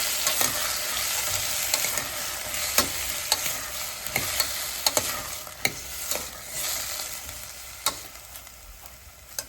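Chopped mixed vegetables, including carrots, are stirred in a pot for a one-pot meal, with a soft frying hiss beneath repeated sharp spoon clacks and scrapes at an irregular pace, and no voices.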